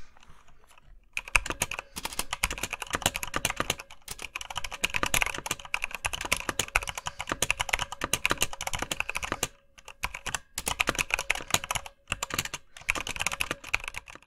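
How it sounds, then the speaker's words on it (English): Rapid, continuous typing on a Corsair K95 RGB Platinum XT mechanical keyboard with Cherry MX Speed Silver switches, close and crisp, with light clacking keystrokes and a few brief pauses. "the customary typing test to show how these Cherry MX Speed silver switches sound"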